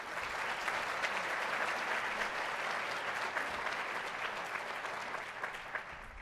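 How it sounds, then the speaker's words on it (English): Sustained applause from a conference audience in a large hall, steady and dense hand-clapping throughout at moderate distance, with no pauses. "Let's give them a round of applause"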